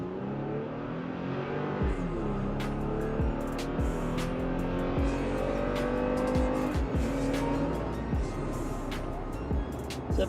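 A Toyota Tacoma 3.5 V6 pickup with an Injen intake revs up from a standstill, slightly uphill, climbing through several gear shifts, the motor growling louder as it accelerates hard, with some faint talk underneath.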